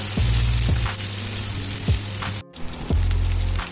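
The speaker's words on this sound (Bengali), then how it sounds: "এবার পেঁয়াজটাকে আমি ভালো করে ফ্রাই করে নেব।" Chopped onions fry in a pan with a steady crackling sizzle, close and continuous, with a brief drop-out partway through.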